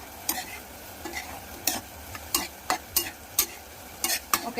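Spiny gourd curry is stirred in a pan, with a spatula scraping in short, regular strokes about every half second over a faint background sizzle, close and clear, with no talking.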